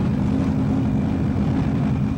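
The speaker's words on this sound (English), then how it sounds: "The engine's just loud, it's blaring behind you." A drag racing car engine roars at a steady, loud, unbroken pitch, close and continuous throughout with no variation in level.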